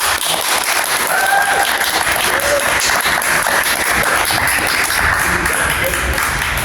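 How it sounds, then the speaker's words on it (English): A live talk show audience applauding steadily throughout, with a few faint whoops and tones poking through the broadband clapping. "Another round of applause for Romeo, please."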